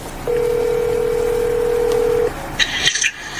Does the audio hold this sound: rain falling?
no